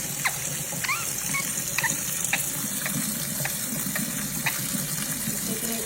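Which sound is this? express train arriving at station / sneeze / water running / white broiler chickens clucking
water running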